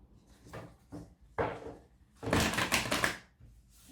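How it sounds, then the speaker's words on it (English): A deck of tarot cards being shuffled by hand, a series of soft riffling and tapping bursts, close and moderately loud, ending in a longer fluttering riffle. "I always like to do a couple more shuffles on camera"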